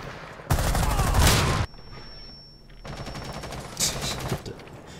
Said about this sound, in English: He shot me through the tiniest little fucking sliver.